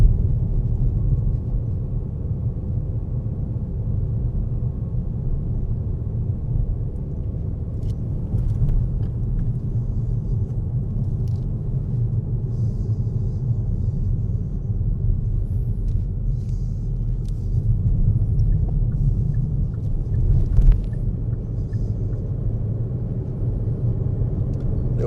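A car drives steadily through a series of roundabouts, its engine and road noise forming a continuous low rumble that rises slightly as it picks up speed and shifts into a higher gear, with no talking.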